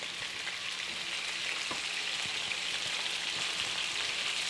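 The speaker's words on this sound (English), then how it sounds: "And a little Scotch bonnet pepper. I just stir it up a bit." Scotch bonnet pepper frying in a pot for a Jamaican dinner, a steady dense sizzle throughout with a few soft stirring knocks, close and even in level.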